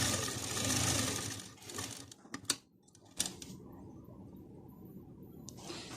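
Sewing machine stitching a feeding kurti, a brief burst of close mechanical whirring that stops, followed by a few clicks and thumps of handling and then quieter low noise.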